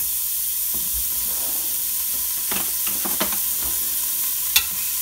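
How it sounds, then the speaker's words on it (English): Chopped meat browns in a pot for an Italian meat sauce, a soft steady sizzle and hiss broken by light stirring scrapes and a sharp knock near the end, close and without talk. "And I'm going to brown this chopped meat."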